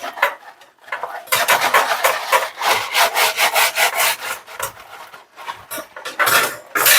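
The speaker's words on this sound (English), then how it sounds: "I can just get my whole hand in here on the rack and just scrub each of" A kitchen rack is scrubbed by hand to remove grime, giving close, continuous rasping strokes in uneven bursts, loud and steady with brief pauses and no voices.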